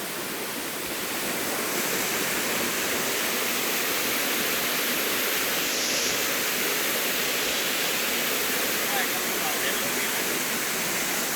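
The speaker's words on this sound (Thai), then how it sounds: "น้ำตกตัวนี้" Waterfall on a forested mountain stream, a loud, steady broadband roar of falling water that stays constant and close throughout.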